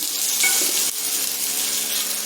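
A bajji dosa roasting on its second side on an oiled pan gives a steady, close sizzle and frying hiss with a faint scrape near the start, and no voices.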